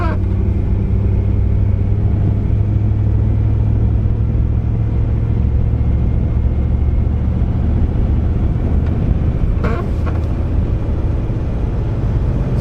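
A Dodge Diplomat on a test track accelerates in second gear, a steady low engine drone and rumble holding close and loud from start to finish.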